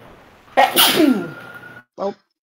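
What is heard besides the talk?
sneeze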